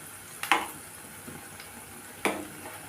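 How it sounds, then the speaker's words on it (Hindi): Chana dal fritters frying in a kadhai, a low steady sizzle broken by two sharp metal clinks as a spoon turns them over, with no voices. "तो चम्मच की सहायता से इन्हें पलट लेंगे ताकि चारों साइड अच्छे से पक जाए"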